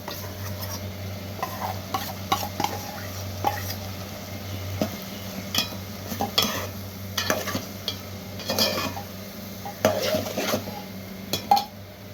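Boiled moong dal is stirred into a ridge gourd curry, a spoon scraping and knocking against the pot in irregular strokes over a low sizzle and a steady hum, close by with no talking.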